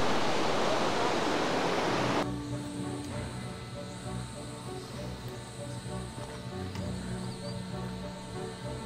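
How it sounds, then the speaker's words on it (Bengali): A small waterfall's steady rushing hiss on a trail between Ghandruk and Chomrong fills the first two seconds, then cuts off abruptly, leaving quiet music. "আর কাছেই একটা ছোট্ট ঝর্ণা।"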